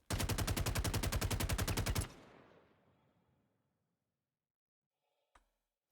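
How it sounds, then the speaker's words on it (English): A rapid automatic weapon fires a steady stream of shots for about two seconds in a sci-fi shooter, then its echo fades into a long tail, and one more faint shot follows. "When you hear them firing from far away, they also sound pretty cool"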